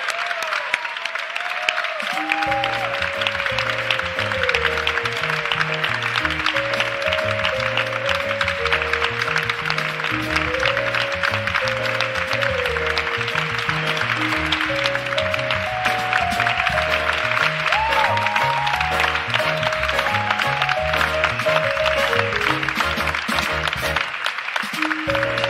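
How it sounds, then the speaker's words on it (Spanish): At the Málaga Film Festival gala, the audience applauds a retrospective award with sustained, loud clapping that runs over music playing through the hall, both continuing with little change until the clapping drops away at the end. "Un fuerte aplauso, Alberto Rodríguez."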